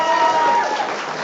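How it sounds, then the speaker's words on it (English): Audience clapping and crowd noise at a Splatoon 3 LAN tournament, a short, moderately loud patter of applause with a sustained tone running underneath. "everyone give Slutty Dogs and Cats a round of applause"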